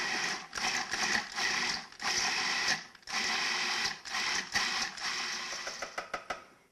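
Food processor fitted with an S-blade chopping vegetables for chili, a loud whirring grind in repeated pulses of a second or two separated by short pauses, with faster choppy bursts toward the end; no talking.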